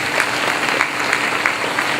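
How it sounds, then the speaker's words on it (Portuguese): A church congregation applauds during a worship service, a loud, continuous wash of clapping filling the whole short stretch without pause. "Aplauda Ele por essa palavra."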